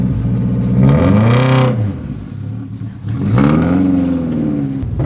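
A car pulls away and accelerates hard, its engine note climbing in two loud rising revs separated by a brief dip, close and with no talk over it.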